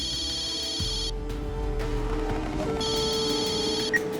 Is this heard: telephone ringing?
yes